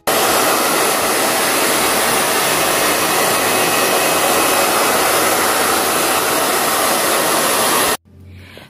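A hair dryer blows a loud, steady, close roar over a first coat of varnish in a craft studio, running nonstop for about eight seconds before cutting off to a quieter hum.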